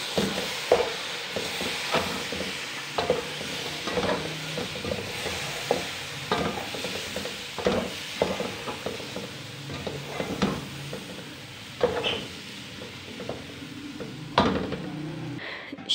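A spoon stirs semolina halwa (sheera) in a pan, scraping and clacking against the metal in an irregular rhythm of knocks over a soft sizzle of frying, close and steady with no talking.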